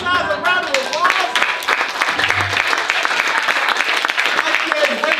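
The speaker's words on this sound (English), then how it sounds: "give me a round of applause" Applause fills the room at a children's theatre rehearsal of a Sleepy Hollow pantomime, a full round of dense, steady clapping. A voice is heard briefly at the start and end.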